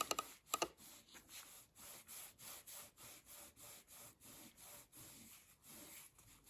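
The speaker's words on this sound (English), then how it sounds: "just give it a bit of a rub" A cloth rubs over an old, battered wooden trunk studded with small buttons, making quiet, regular back-and-forth scrubbing strokes after a couple of sharp knocks at the start.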